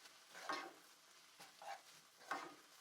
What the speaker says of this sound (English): Continue stir frying for another 2 to 3 minutes.